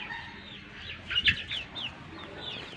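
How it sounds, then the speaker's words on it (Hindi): Desi hens roam nearby on a small farm with rabbits, giving a few soft clucks that rise briefly in the middle over quiet background noise. "हमारी देसी मुर्गियाँ जो वो भी इधर ही घूम रही है"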